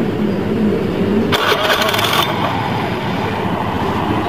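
An automatic scooter with a rough, knocking engine cranks and fires up, a brief starter burst followed by a steady, loud running idle close by.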